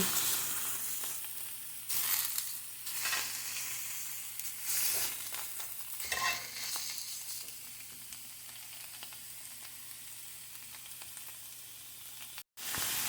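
Thai skirt steak sizzles steadily in a hot frying pan while being flipped over, a close, continuous hiss broken by a few sharp bursts of spattering.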